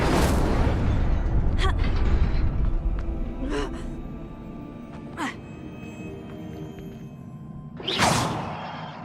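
An Incendio fire spell goes off in Hogwarts Legacy with a rushing whoosh and low roar of flame, followed by several short swishes and a sharp burst near the end, amid game ambience.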